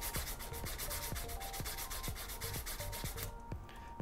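Fine-grit sandpaper rubs by hand over a turned ferrule, a close, dry scratching in quick rhythmic strokes that stops abruptly near the end.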